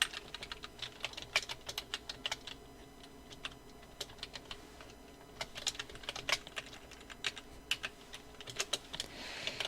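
Rapid, uneven keystrokes on a computer keyboard while text is entered in Photoshop, with bursts of clicks and short pauses, close and fairly quiet with no talking.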